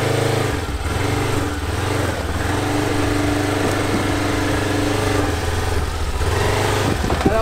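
A Segway Villain SX10 side-by-side drives over stones on a sloping off-road track, its engine droning loud and steady throughout with rough rumbling from the terrain, close up and without talk.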